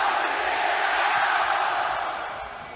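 Esports crowd at a League of Legends Rift Rivals match roaring and chanting for RNG, a dense, loud, sustained wash of many voices filling the arena, fading slightly at the end.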